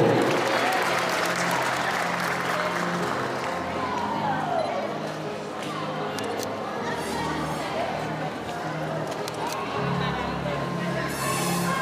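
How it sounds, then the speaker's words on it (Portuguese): Audience applause at a municipal ceremony in São Sebastião do Umbuzeiro, a dense, steady clatter of many hands that fades slightly midway and continues, with crowd murmur and voices underneath. "Também recebemos com muitos aplausos"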